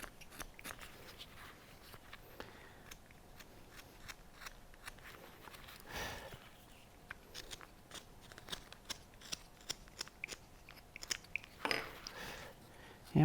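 Carving knife shaving small cuts along the side of a wooden stocking cap on a carved snowman, giving a quiet, irregular scrape-and-snick texture with a couple of louder strokes, close and alone.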